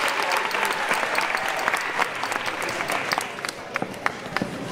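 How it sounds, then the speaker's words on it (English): A concert audience claps for the associate teachers at a winter concert, giving warm, sustained applause with individual claps standing out crisply near the microphone throughout. "So let's give them a big deserved round of applause."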